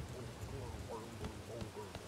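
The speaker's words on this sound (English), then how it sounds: "Sometimes there are certain things that don't come out other than in the rain." Steady rain falls across a Bugsnax game scene, a soft continuous hiss with a few faint drop-like ticks, heard alone at low level.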